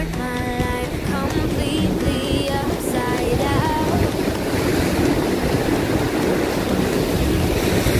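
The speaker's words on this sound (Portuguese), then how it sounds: "O vento, tu viu?" Strong wind gusts at the seaside in Laguna, a constant loud roar and rumble of wind buffeting the microphone, mixed with surf noise.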